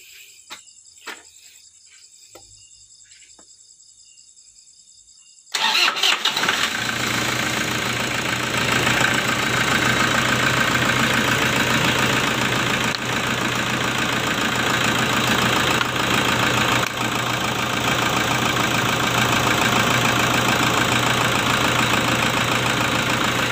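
A Toyota Fortuner diesel engine with a heavy pull and black smoke cranks and starts after a quiet stretch, then settles into a loud, steady, close idle with a rough, knocking diesel clatter.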